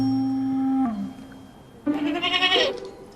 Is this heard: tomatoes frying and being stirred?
no